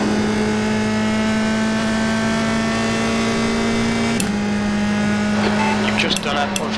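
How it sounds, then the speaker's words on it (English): A USF2000 race car engine in the iRacing sim drones steadily at high revs with a strong, even tone, then shifts pitch briefly as a gear changes, loud and close throughout. "listen to the fantastic sounds of the USF2000 in iRacing"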